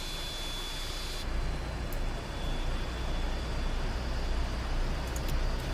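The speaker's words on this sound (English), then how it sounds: "they did get the sounds just right with this helicopter" Westland Scout helicopter in a flight simulator game, a steady broadband turbine roar and rumble that swells slightly after the first second and holds loud and constant throughout.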